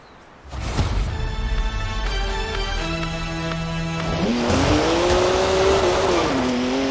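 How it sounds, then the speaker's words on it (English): A BMW 1M in the Forza Horizon 4 racing game accelerates hard, its engine revving up through the gears with a rising, buzzing tone, then tyres squeal as the car slides into a turn. "Ooh, a BMW 1M. Great car."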